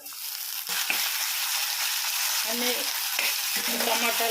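Onions, curry leaves and tomatoes frying in a pan with a steady, close sizzle, joined by a few stirring scrapes and clatters toward the end, no talking.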